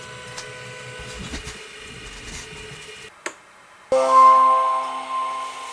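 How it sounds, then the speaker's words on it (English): A eufyMake E1 UV printer running its test print hums and whirs with faint ticking, goes briefly silent after a sharp clunk, then restarts with a louder mechanical drone and a steady high whine. "Okay, so it just did the test print,"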